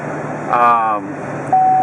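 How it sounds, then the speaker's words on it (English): A short electronic seatbelt warning tone chimes twice inside a 2015 Chevrolet Silverado 3500HD High Country pickup, the second steady beep starting near the end, with someone talking over a low engine hum. "It's beeping at me because I don't have my seatbelt on."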